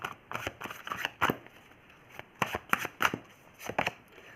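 Tarot cards are shuffled and drawn by hand at close range, giving a series of crisp slaps and riffling flicks in an uneven rhythm with brief pauses between them.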